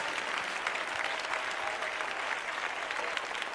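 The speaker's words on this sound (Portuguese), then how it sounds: "para todo mundo dar a melhor salva de palmas para Jesus" Congregation clapping together in a church service, a dense, steady wash of applause filling the room at moderate volume throughout, with no speech over it.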